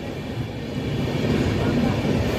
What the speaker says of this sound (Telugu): నిడదవోలు స్టేషన్ నుంచి కూడా మన ట్రైన్ బయలుదేరిపోయింది